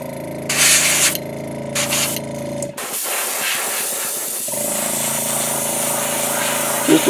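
White base coat sprayed onto a frog-pattern piece, with steady loud hissing bursts, a brief pause, then continuous spraying over a mechanical hum from the compressor.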